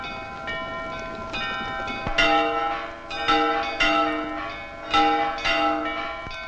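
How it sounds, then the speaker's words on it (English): Church bells peal repeatedly in overlapping, resonant strikes, ringing out loudly at close range with a steady, layered rhythm and no talk over them. "Why are the bells ringing?"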